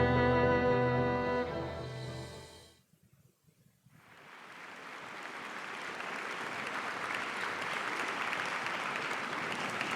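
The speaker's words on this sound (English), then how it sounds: "Clap, clap, clap, clap, clap, clap." Music ends in the video game The Lion's Song, a brief hush follows, then steady applause from a crowd swells and continues evenly to the end.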